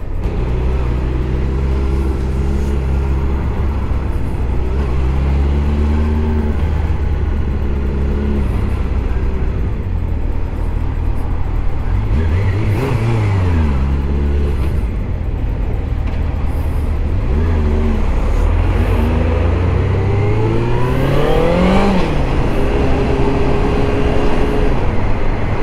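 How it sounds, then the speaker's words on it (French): A motorcycle engine drones loudly and continuously on a morning commute to work, its pitch rising and falling through several gear changes as the bike accelerates, with wind rush and no voices. "Deuxième jour à aller au boulot en moto"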